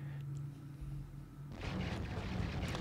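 Distortion guns firing from a ship in a video game, a faint low hum that gives way to a rumbling, crackling burst of weapon fire building toward the end.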